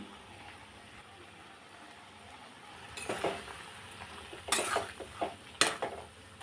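Drumstick and mixed vegetables drop into a bubbling pot of shukto, starting as a quiet simmer and then breaking into several bursts of clattering, scraping and stirring against the pot, close by.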